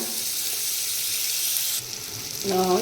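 Butter sizzling in a pan while broccoli soup is being made, a steady, fairly soft frying hiss that runs throughout, with a brief tonal clink or rattle near the end.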